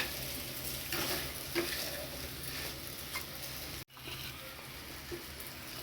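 Dry masala jackfruit frying in a pan, a continuous dense sizzle with occasional stirring clicks, close and steady with one brief dropout.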